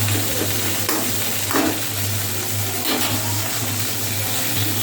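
Potato and pumpkin slices fry in hot oil over low heat, a close, continuous sizzle with occasional stirring scrapes, under a steady low hum and with no talking.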